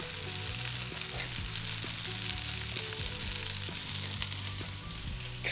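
Vegetables frying and caramelizing in a pan give a dense, steady, loud sizzle with occasional faint stirring clinks, close and uninterrupted.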